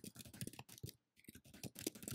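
Fingers type on a computer keyboard in quick, uneven bursts of close clicking, with a brief pause midway before the keystrokes resume.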